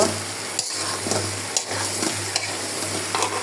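Chicken stir-fried with whole spices in a pan makes a steady close sizzle, broken by regular scraping strokes of stirring.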